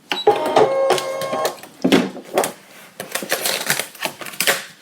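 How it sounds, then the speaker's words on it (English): A Brother ScanNCut cutting machine unloads its mat with a series of close, clattering mechanical clicks and short whirring motor bursts in an uneven rhythm. "I'm going to unload the machine."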